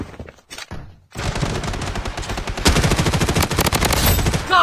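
Rapid automatic gunfire from the mobile and PC shooter BloodStrike, with a few short bursts at first and then a dense, loud, sustained stream of shots.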